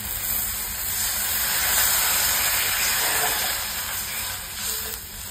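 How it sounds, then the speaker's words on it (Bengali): Water poured onto spice paste frying in a hot pan, giving a loud, sustained hissing sizzle with a steamy rush that swells and slowly eases, close up with no voices. "এবারে দিয়ে দিলাম জল।"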